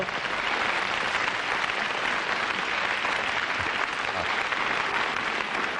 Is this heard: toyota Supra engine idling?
no